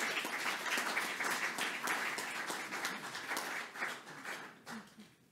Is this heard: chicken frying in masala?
no